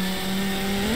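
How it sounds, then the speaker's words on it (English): A roughly 3000-horsepower turbocharged car engine holds a steady high-pitched drone with a rising turbo whine, loud and close, with no voices. "Listen to these turbos. Do you guys hear these turbos?"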